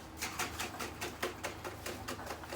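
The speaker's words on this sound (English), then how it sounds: "And it is the actual shaking process or the aerating process that provides the foam or the frappe on the frappe." A lidded jar of frappe coffee and cold water being shaken, with quiet, rhythmic sloshing and rattling pulses in quick succession.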